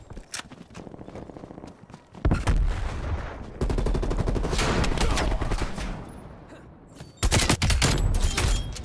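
Gunfire from Call of Duty Black Ops Cold War comes in dense, loud automatic bursts that start, pause and restart, with rapid clattering shots and softer stepping sounds between them.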